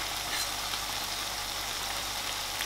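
Tomatoes frying in hot oil in a pan for a spicy Rayalaseema-style egg masala, giving a steady, continuous sizzle with no talking.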